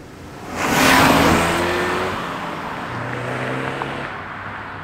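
A Ford Focus ST passes by with a swelling engine note that peaks early and then fades as it drives away, with a throaty tone heard from the roadside and no talking.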